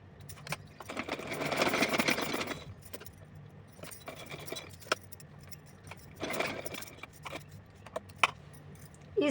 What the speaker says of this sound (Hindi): करने के बाद इस पर मैं सिलाई लगाऊँगी